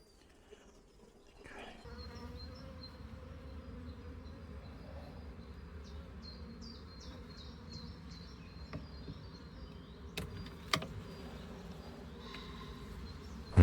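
Honeybees buzz in a steady, soft drone around an opened beehive during a spring inspection, a close, continuous hum with a few faint clicks and handling knocks.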